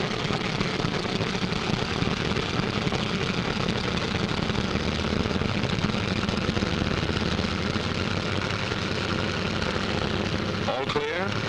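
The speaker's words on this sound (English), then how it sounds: "Takeoff by twos on the quarter minute" Fighter planes taking off in pairs, a steady loud roar of aircraft engines and propellers filling the whole stretch, with someone narrating over it.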